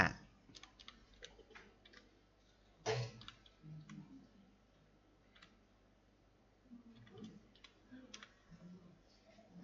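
A computer mouse clicks several times in a quiet computer-class lesson on building tables in Dreamweaver 2019, with one sharper, louder click near the middle among light scattered taps and a low room hum.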